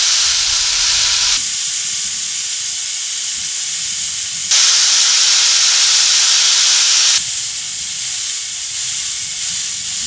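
A flap disc grinds down metal corners with a loud, harsh, hissing rasp that runs continuously, shifting in tone across three distinct passes.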